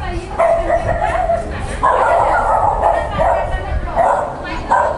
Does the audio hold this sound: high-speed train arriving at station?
no